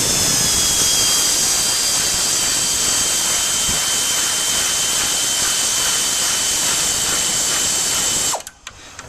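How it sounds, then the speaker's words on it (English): Loud, steady high-pitched whine of an air ratchet loosening a 5/32" headlight bolt on a Ford Bronco, running continuously for about eight seconds, close to the mic, then stopping abruptly near the end. "I'm going to use an air ratchet to speed things up"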